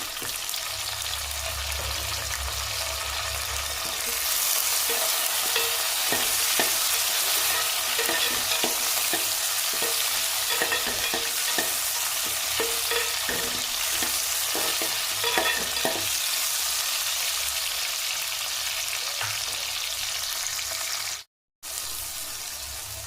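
Tomatoes sizzle and sauté in a pan for a Tamil-style mutton kulambu, a steady close frying hiss with repeated stirring scrapes, and a brief break near the end.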